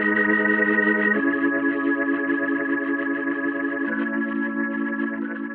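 Audio track in Cubase 9.5 under an exponential volume fade-out automation curve, a sustained synth-like chord that changes pitch twice while its loudness slowly and progressively drops, heard alone.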